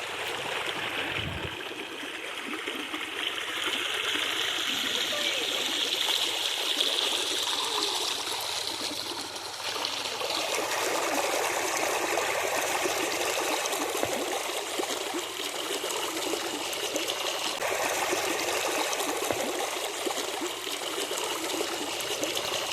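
Stream water flows steadily over rocks at Moolakoona waterfalls, a continuous close trickling and rushing wash that holds the same level throughout with no voices.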